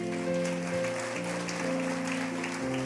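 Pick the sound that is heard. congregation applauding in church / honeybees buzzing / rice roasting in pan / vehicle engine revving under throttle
congregation applauding in church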